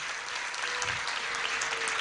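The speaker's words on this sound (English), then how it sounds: "Everyone, please, large round of applause." Steady audience applause fills a hall at a formal event, a continuous dense patter of many hands clapping with no voices over it.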